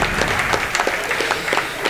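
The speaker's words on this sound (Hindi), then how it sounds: "दोस्तों तालियां बजाएं।" Audience applause at a Malegaon celebration honouring a guest with a garland of notes, steady dense clapping filling the short stretch with no voices over it.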